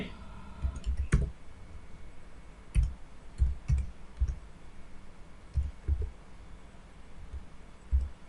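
Keystrokes on a computer keyboard while a GST number is entered in Tally accounting software, heard as scattered, moderately close clicks in short bursts with pauses between them.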